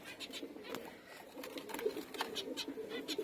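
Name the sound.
zebra finches calling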